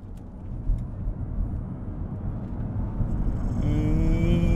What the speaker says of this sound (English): it does have plenty of acceleration, as I'm just about to show you as we go around this corner